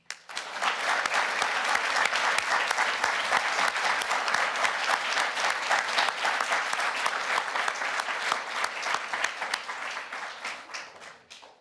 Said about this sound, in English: If we could give actually applause as I read their names